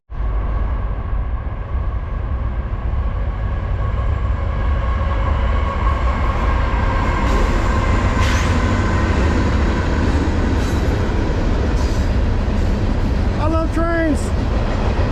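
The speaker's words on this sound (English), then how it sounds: "Trains." A train rolls past along a railway near Noland's Ferry and Point of Rocks with a loud, continuous rumble and rattle of cars, close and sustained, with a brief horn-like squeal near the end.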